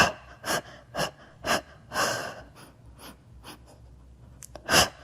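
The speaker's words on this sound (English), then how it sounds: "Inhale, 2, 3, 4, 5, and exhale. Inhale, 2, 3, 4, 5, and exhale. Nice strong breaths." Strong, rhythmic breaths during a Pilates springboard exercise, close and fairly loud, a steady series of short sharp bursts with a few fainter breaths between them.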